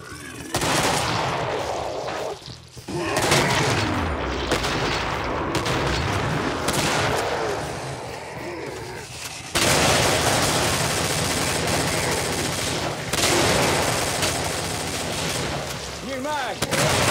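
Dense, continuous gunfire from the video game Killing Floor, dominated by rapid automatic bursts layered with heavier booming shots, loud and close throughout with brief lulls and chaotic crowding.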